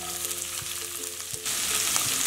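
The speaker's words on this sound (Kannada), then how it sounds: "ಹೈ ಫ್ಲೇಮ್ ಇಟ್ಕೊಂಡೆ ಈರುಳ್ಳಿ ಕೆಂಪಗಾಗೋವರೆಗೂ ಫ್ರೈ ಮಾಡ್ಕೊಳ್ಳೋಣ" Thinly sliced onions, two medium ones, fry over high flame in hot oil for a vegetable biryani. A dense, steady sizzle is heard with a few stirring scrapes, and it grows louder partway through.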